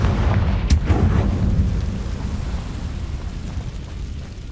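Bombarda and Confringo explosion spells go off in Hogwarts Legacy, a loud deep blast that hits near the start and rolls into a long, fading rumble.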